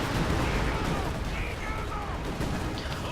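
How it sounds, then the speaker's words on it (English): Howitzer artillery barrage in the war video game Company of Heroes 2, a dense continuous rumble of booms and blasts layered over one another, loud and sustained throughout. "they were kind enough to keep using the howitzer barrage"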